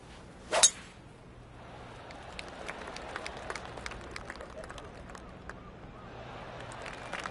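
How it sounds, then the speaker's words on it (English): Golf claps from spectators around the course in the PGA TOUR 2K25 video game, a soft patter of scattered applause in the distance after a short sharp click near the start. "I can hear the golf claps around the course"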